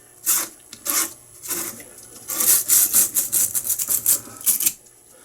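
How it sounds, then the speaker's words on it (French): Old Excite car battery posts get scrubbed clean with repeated rasping, brushing strokes, a few spaced ones first and then a quicker run of close, loud rubbing passes. "Je vais nettoyer des poteaux."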